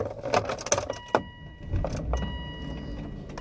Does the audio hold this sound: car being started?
yes